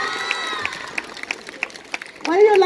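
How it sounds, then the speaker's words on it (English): Children at a Children's Day school celebration clap and cheer, a scattered patter of small hands, moderately loud, with lively voices rising near the end. "Big round of applause!"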